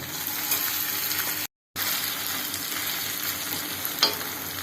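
Grated raw mango sautéing in a hot pan, a close, continuous sizzle with scraping stir strokes and a brief cut of silence partway through.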